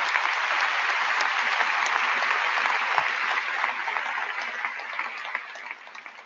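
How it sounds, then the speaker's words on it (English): Sustained applause from a large university new-student convocation audience in a big hall, dense and steady clapping that fades slightly toward the end, with no talk over it. "That's worth an applause itself."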